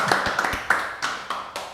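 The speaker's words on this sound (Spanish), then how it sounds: "Vamos a darle un fuerte aplauso al doctor Lenín Hernández Teuma." A few scattered hand claps and taps ring out in short, uneven bursts, too sparse for full applause, as a swimming-show guest is welcomed in Puerto Rico; no one speaks.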